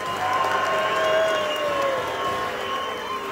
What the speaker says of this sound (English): No, keep the booing.